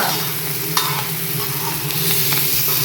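Goat lungs fry with onion in a pan in a loud, close, continuous sizzle, with stirring scrapes and small clicks over a low steady hum.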